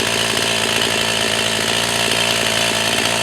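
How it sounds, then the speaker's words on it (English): A new Echo CS 4500 chainsaw runs loud and close at a steady high rev in a wood, its buzzing drone unbroken throughout. "So the chainsaw is new for me, but now it seems to be operating good."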